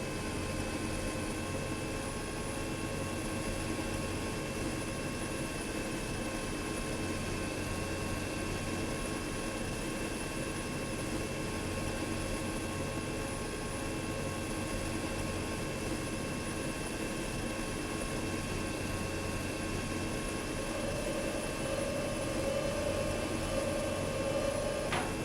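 In the game Arma 3, a helicopter hovers low while sling loading cargo, its rotors and engine making a constant loud drone with a steady whine and no pauses.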